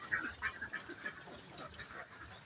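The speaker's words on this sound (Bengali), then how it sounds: "এখন আমার হাঁসগুলি সরাসরি কিছু পুকুরে নামলো আর কিছু খাবার খাচ্ছে" Ducks on and near a farm pond give a string of soft, distant quacks and honks over a low background murmur, with no one talking.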